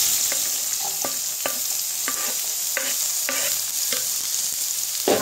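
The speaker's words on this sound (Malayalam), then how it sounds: "നമ്മുടെ എണ്ണ ചൂടായി വന്നിട്ടുണ്ട്. അതിലേക്ക് 1 സവാള ഞാൻ പൊടി പൊടിയായിട്ട് അരിഞ്ഞ് വെച്ചിരിക്കുന്നതാണ്, അത് ഇട്ട് കൊടുക്കാം." Finely chopped medium onion frying in hot oil, a steady bright sizzle with a series of regular scraping stirs, close and fairly loud, with no voices.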